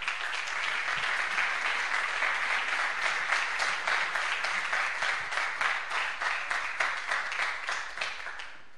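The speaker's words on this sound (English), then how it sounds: "Big applause for Pocket Lucho." At an awards ceremony for a retro computer game development contest, an audience applauds loudly and steadily, and the clapping settles toward a rhythmic beat before it fades at the end.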